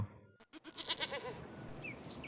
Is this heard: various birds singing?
no